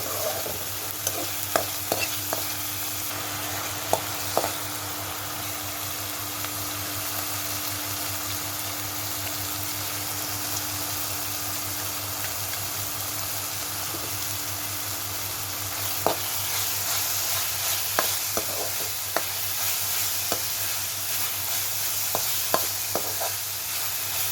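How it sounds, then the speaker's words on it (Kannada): Chopped tomatoes frying in a pan with a little salt for a macaroni dish, a steady sizzle broken by repeated scraping clicks of stirring, with no voices. "ಟೊಮೆಟೊ ಫ್ರೈ ಆಯರೆ ಚೂರು ಉಪ್ಪುನು ಪಾಡುಂಡು ಅಥವಾ ಬೇಗ ಬೇಯ್ತುಂಡು"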